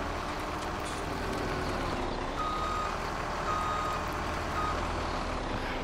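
Truck reversing beeps in the farming game Farming Simulator 17, a steady repeating tone over continuous engine and machinery drone, moderately close and without speech.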